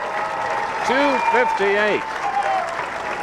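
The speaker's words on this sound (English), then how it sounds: "Standing applause." The crowd at the 1997 PBA Peoria Open bowling championship gives steady standing applause while a commentator speaks over it.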